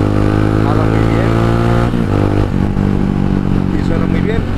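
An Italika DT 150 Delivery motorcycle running with a swapped-in 250Z engine runs loud and close, a steady throbbing drone with a short dip and shift in pitch partway through.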